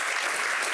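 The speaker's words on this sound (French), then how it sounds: "On les applaudit très fort." Studio audience applause on a French-language talk show as guests are introduced, a brief, dense, even burst of many hands clapping at moderate loudness.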